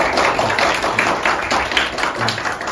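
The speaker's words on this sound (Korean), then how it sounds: "박수로 맞아주시면 고맙겠습니다" An audience at a university economics department presentation event claps to welcome a guest speaker, a loud, close burst of many hands with a brisk, uneven rhythm lasting throughout.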